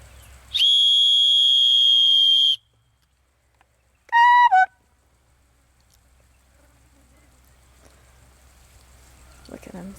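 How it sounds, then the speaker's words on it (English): A loud, piercing whistle blast near horses holds steady for about two seconds, followed moments later by a shorter warbling whistle, then quiet outdoor ambience. "I'm going to blow the whistle. It's going to be pretty loud so they can hear it."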